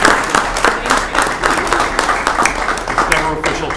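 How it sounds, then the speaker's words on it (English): Clapping from a small group at a village board meeting honoring the library, a close, uneven patter of hands lasting a few seconds with murmured voices underneath. "I think we should clap for the library."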